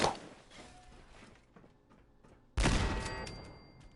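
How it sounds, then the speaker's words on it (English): A frag grenade goes off in the combat of Fallout 4, a sudden loud blast about midway that rings and decays, following a stretch of quieter gunfire-like crackle and faint thuds. "Can I just throw a frag grenade in there?"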